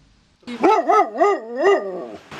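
A dog barks and yelps in a quick series of about five tonal, rising-and-falling barks, loud and close, with no speech over it.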